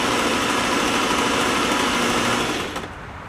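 A Singer 503A sewing machine running steadily through a triple stitch, a close, continuous whirring drone that cuts off near the end.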